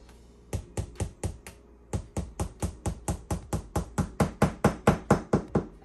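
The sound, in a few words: hammering a dowel through a cake into the cake board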